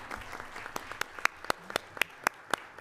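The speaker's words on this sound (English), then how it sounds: "Let's give Ms. Whiteman a big round of applause." At a Hampton school board meeting, a small audience applauds with sparse, distinct hand claps ringing out individually at a moderate distance rather than a dense roar.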